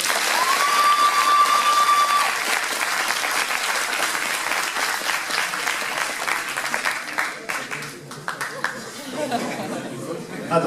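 Spectators at a cosplay show in Dijon applaud, a full steady round of clapping that tapers off into scattered claps and crowd chatter, with a short whistle-like tone near the start.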